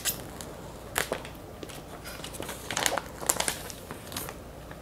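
Crinkling and crackling of an iPhone 11 Pro Max box's packaging being handled and torn open, with irregular sharp rustles and no talking.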